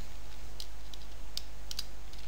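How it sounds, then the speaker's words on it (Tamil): Keystrokes on a computer keyboard while writing Android code, a few faint scattered clicks in short bursts against a steady low hum, with no talking. "இங்கே நான் டைப் பண்ணுறேன்"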